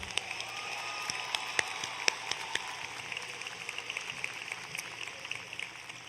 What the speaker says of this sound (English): Let's please give a big round of applause for our top 10 scholars.